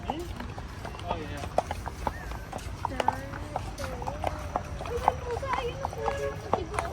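Horse hooves clip-clopping in a steady, close rhythm during a ride, with people talking over the footfalls throughout.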